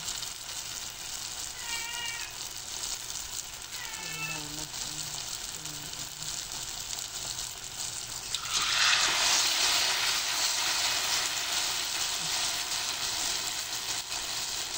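A second batch of banana fritters (maruya) frying in hot oil gives a continuous sizzle that grows noticeably louder partway through. A cat meows several times early on.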